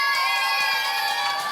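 An audience at a Wednesday church Bible study cheering and shouting in a brief sustained burst, heard a little distant behind a steady high ringing tone.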